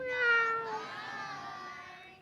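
A storyteller's voice imitates a cat, giving one drawn-out, falling meow that is close and clear.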